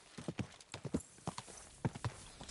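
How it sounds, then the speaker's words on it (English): Horse hooves clip-clop at a steady walking pace in the video game Kingdom Come Deliverance 2, a close clear run of hoofbeats. "Easy, good horse."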